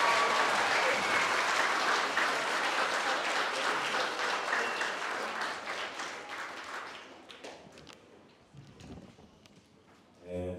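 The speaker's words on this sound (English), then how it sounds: "Can we give our current student leaders a huge round of applause?" A school crowd at a senior prizegiving applauds its student leaders: loud sustained clapping that thins and fades over several seconds, with scattered claps and a brief burst near the end.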